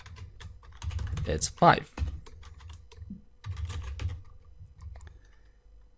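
Typing on a computer keyboard while writing C++ switch-case code, with quick clustered key clicks at close range, running under a man's speech.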